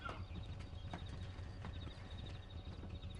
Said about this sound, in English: Se oyen las pinches huellas de caballos atrás.